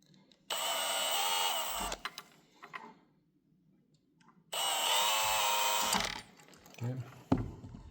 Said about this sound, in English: Okay, so we're going to drill that hole now.